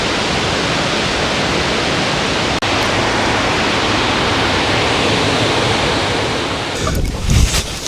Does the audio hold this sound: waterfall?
yes